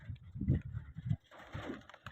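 Pigeons cooing softly nearby in a few low repeated calls during a pigeon-flying contest, faint and close, with light background noise.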